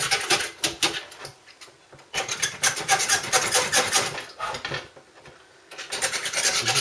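A Stanley knife rasps powder coating off a wire spray guard in a garage ahead of welding, with quick scratchy strokes in several bursts broken by brief quiet gaps, heard up close.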